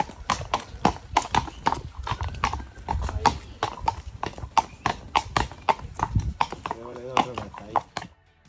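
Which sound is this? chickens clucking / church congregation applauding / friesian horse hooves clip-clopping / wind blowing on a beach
friesian horse hooves clip-clopping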